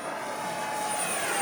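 A 3D-printed Avro Vulcan bomber RC jet with a 1 m wingspan, powered by an FMS 50 mm, 11-blade electric ducted fan on 3S, gives off a steady high whine and rushing air that swells slightly.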